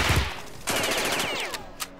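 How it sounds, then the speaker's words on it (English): Machine gun fire in the Jagged Alliance 2 video game: a rapid burst of shots that fades into scattered echoing reports and a few sharp cracks, loud and close, with no talk. "being shot with a machine gun"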